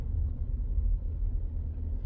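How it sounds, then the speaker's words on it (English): Ford F150 pickup with a 10R60 automatic transmission, on the move, gives a steady low engine and drivetrain rumble with slight surges as it shifts, continuous and close with no talking. "it'll shift its 1st gear, 2nd gear, 4th gear, 6th gear, 7th gear"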